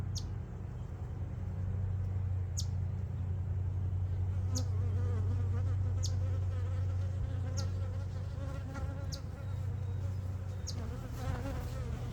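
Honey bee colony buzzing steadily and loudly in an open hive while a frame is handled, a dense continuous drone with sharp clicks and ticks scattered over it.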